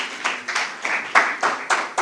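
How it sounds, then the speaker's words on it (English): A conference audience at a pan-African youth gathering claps for a panelist named Philip, giving a short run of steady, evenly spaced claps from a modest crowd, moderately loud and close. "please, a round of applause for Philip"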